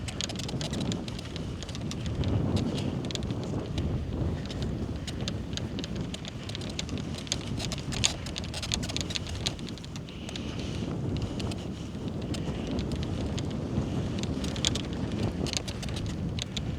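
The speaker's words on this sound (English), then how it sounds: "This wind" Steady wind buffets the microphone on a golf course near the green. The roar is constant and rumbling, with gusty swells and no voices.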